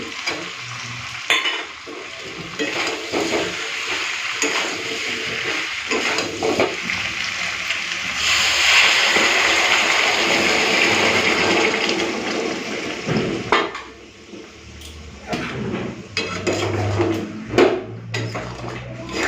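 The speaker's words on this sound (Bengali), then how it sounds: "গরম জলটা দিয়ে আর একবার ভালো করে মিশিয়ে নিচ্ছি" Meat and potato curry stirred in a pot after hot water is added, a continuous bubbling sizzle with scraping spoon strokes and occasional clinks of metal against the pot, close and steady.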